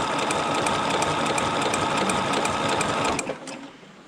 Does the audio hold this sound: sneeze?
no